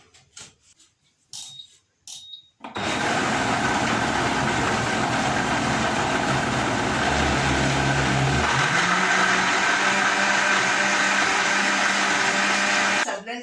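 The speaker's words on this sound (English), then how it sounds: "I'm going to blend my coconut flesh, my coconut meat, with clean water in my blender" A few soft knocks, then a blender roars on loudly and runs steadily, blending coconut flesh with water, its motor pitch shifting slightly partway through as it churns.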